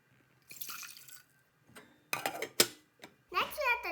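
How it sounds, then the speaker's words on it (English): Water is poured into a pot to boil sweet potato in a home kitchen, heard as short, splashy bursts separated by quiet gaps, with a voice speaking at the end. "Put in the water."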